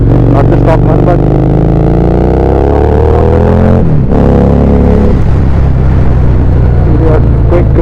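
A Harley Davidson Street 750 motorcycle with an aftermarket exhaust revs loudly and close, its engine pitch rising and falling in swells with a deep rumble throughout, and a voice briefly audible under it.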